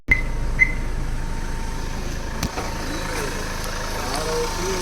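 A 2018 Mahindra XUV500 SUV engine idles with a steady, low hum close by, with a couple of brief clicks near the start and middle.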